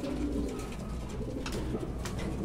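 Racing pigeons coo steadily at close range, with low, soft, overlapping calls running throughout.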